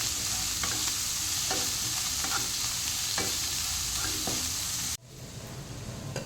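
Onion and ginger frying in oil in a pan give a steady, close sizzle broken by light scraping stir strokes, then drop to a softer crackle for the last second.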